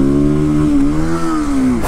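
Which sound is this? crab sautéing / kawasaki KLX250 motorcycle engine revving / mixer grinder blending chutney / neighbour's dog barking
kawasaki KLX250 motorcycle engine revving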